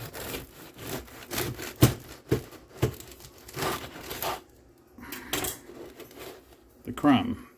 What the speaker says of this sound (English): Well, I promised you I would cut open a slice